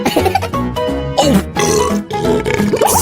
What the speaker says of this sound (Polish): Co za beknięcie!